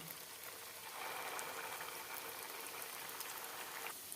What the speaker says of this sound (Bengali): তেল গরম হয়ে গিয়েছে এখন এর মধ্যে দিয়ে দিচ্ছি তৈরি করে রাখা টিফিন